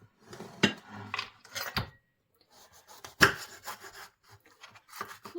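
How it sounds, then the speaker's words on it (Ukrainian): A knife slices red sweet peppers on a cutting board in irregular bursts of rubbing, scraping strokes, close by with pauses between cuts. "І нарізаємо солодкий перчик."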